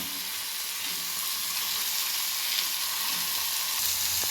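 Fish rubbed with spicy masala fries in oil on a flat tawa, giving a steady, close, dense sizzle that holds at an even level throughout, with no talking.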